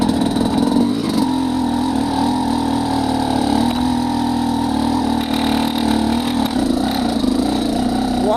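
A motorcycle fitted with a SmartCarb SC2 carburetor during a riding test, its engine running loud and close with a steady droning tone and slight rises in pitch, no voices over it.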